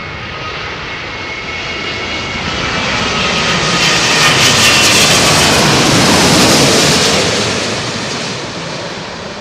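A loud aircraft engine roar with a high whistling whine on top, swelling to a peak midway and then easing off slightly, heard during Storm Eunice.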